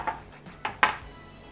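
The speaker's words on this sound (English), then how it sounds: "Shake that. Release the egg from the sides." An omelette pan shaken on the stove to loosen the egg from its sides, heard as a few brief, light metallic scrapes and knocks, close and fairly quiet, with no talking.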